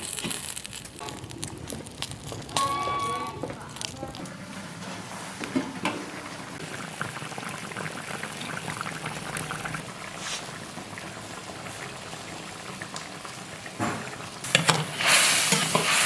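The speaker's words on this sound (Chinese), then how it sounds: "盖上锅盖，小火煮1个小时" Lamb trotters with salt and peppercorns simmering in a covered pot over low heat give off a steady, moderately loud bubbling and hissing wash, with a few brief knocks and clatters toward the end.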